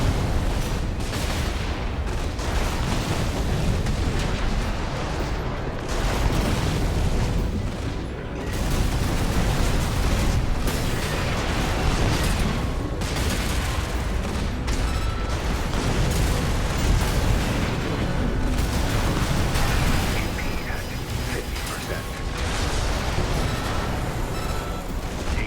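Dense, continuous barrage of missile explosions and booms in the mech combat game Armored Core VI, loud and unrelenting throughout with no pauses or speech.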